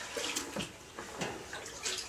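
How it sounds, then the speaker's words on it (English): Maple sap pours from one pail into a holding pail in a backyard syrup setup, a soft, close, continuous trickle and splash heard alone. "Once it drains, then we'll pour it into the holding pail."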